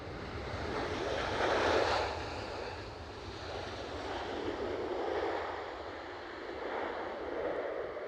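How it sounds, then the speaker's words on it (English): Steady wind blowing across the open ground of Edinburgh International Airport near runway 24, a broad gusty rush that swells and eases over the whole stretch, with no talking. "Wind is picking up a bit now."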